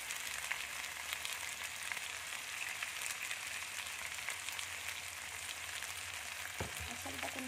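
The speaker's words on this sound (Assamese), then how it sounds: "ধুনীয়াকৈ মই ভাজি লৈছোঁ।" Mixed vegetables and masala crackle steadily in a frying pan, a soft, even sizzle up close, with a couple of sharper utensil clinks near the end and no talking.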